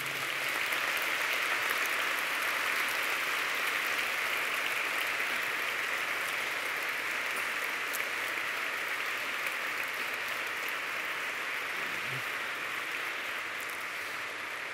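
A large audience at a university graduation ceremony for the 2020 and 2021 classes applauds loudly and steadily, with a dense, even wash of clapping that carries on for about fifteen seconds and has no talk over it.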